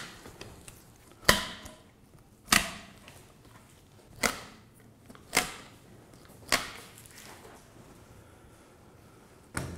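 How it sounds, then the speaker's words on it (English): Dolphin ribs being cut through one by one during a postmortem, five or six sharp cracking snaps spaced about a second apart, each fading quickly, close and distinct, with no talk. "Just cut them through the ribs one by one."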